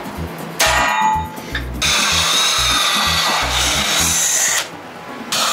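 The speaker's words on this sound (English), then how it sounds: "Just drilling holes." A power drill whines loudly in several bursts, spinning up and biting into material, with brief pauses between runs.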